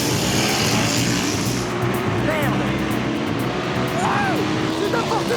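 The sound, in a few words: Kawasaki Z900 RS motorcycle engine revving during sprint acceleration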